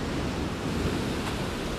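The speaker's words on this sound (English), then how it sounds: "you hear this like hissing sound where the waves, monster waves are coming in" Winter surf breaking on a beach beside a fishing pier, a steady broadband hiss and roar of big waves rolling in with no pause, wind mixed through it.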